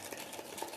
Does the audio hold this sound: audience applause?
no